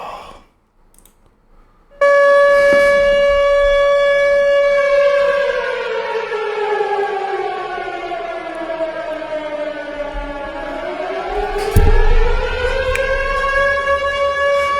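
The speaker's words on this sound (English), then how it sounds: "Where's my sirens? Amen to the sirens." A loud civil-defense-style siren sound effect blares for over ten seconds, its tone sliding down and then rising again in a long wail, with a few clicks at the start.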